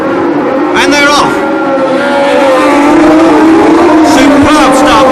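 A field of 1976 Formula One cars roars away from the start of the Long Beach street race, loud high-pitched engines revving and rising in pitch as they accelerate, with a commentator speaking over the din.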